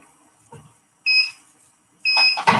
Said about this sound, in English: Once the 20 seconds are up, it beeps.